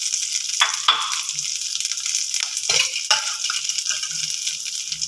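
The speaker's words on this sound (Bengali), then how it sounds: "খুব সামান্য জল দিয়ে মশলাটাকে ভেজে নিচ্ছি।" Spices with turmeric and chili powder fry in a pan with a little water for a dal puri filling, giving a steady close sizzle with a few sharp clinks and stirring scrapes.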